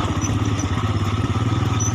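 A 2021 Royal Enfield Himalayan rides off-road, its engine a loud, steady, close throbbing pulse with a rapid even rhythm over a short stretch.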